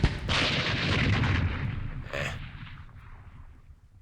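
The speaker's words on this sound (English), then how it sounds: "And this mortar platoon will move here and shoot." Mortar fire from a platoon in a World War II strategy game set during Operation Sealion, a loud booming burst at the start that rumbles and fades, with a second softer report near the middle.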